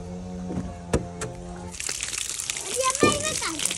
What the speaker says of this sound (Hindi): इसको जो है ना पानी लगा रहे हैं, क्योंकि ऊपर डालना है ना।